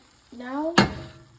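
Mushrooms fry in a pan with a short stirring scrape, then a sudden sizzling burst that fades quickly, close and fairly loud with no talking.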